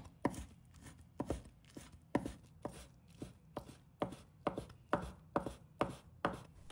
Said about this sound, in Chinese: 再给它切成小丁，也不用切得太碎